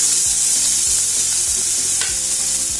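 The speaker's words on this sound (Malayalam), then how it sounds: "ഇതിലിട്ട് വഴറ്റുന്നു." Tomato with ginger garlic paste sautéing in a hot pan, a steady bright sizzle throughout with repeated scraping stirs every half second or so, close and loud, no voices.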